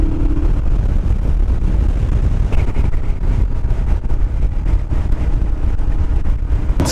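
A Royal Enfield Himalayan motorcycle's small engine revving under throttle, a loud continuous rumble with surges and heavy wind buffeting the microphone throughout.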